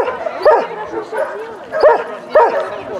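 Giant schnauzer at a dog sports event barking and whimpering in repeated excited bursts, close and loud, with people talking over it.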